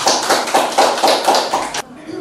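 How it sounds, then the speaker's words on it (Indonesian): Brief round of clapping from a classroom audience during an Indonesian teaching-practice lesson, roughly evenly paced claps close by that stop abruptly near the end, with a faint voice underneath. "Boleh tepuk tangan."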